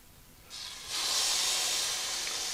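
Egg-coated day-old French bread is laid on a hot griddle. A soft hiss starts, then swells into a loud, steady sizzle that holds for the rest of the clip.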